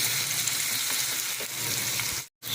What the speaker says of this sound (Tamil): 4 காஞ்ச மிளகாய் துண்டு கட் பண்ணி போட்டேன், இதுவும் கொஞ்சம் வதங்கட்டும்